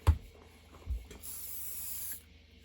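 WD-40 sprayed onto the rusty body of a Stanley No. 5 hand plane, a couple of short thumps followed by a steady close hiss lasting about a second.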